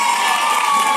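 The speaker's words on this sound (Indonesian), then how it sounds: "Ini contohnya tepuk tangan dong." An audience at a Balinese comedy performance claps and cheers for a guest, a short loud wash of mixed clapping and shouting voices, dense and continuous.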